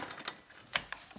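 A sewing machine stitching a garment neckline runs in short, uneven mechanical bursts of clicking and whirring, close and fairly quiet, with no talking.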